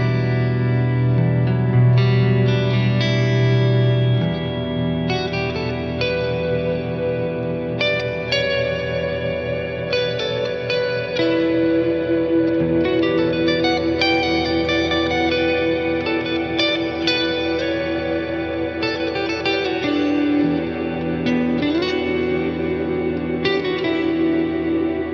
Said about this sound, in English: Let's crank the decay all the way up. How much reverb can we get out of this?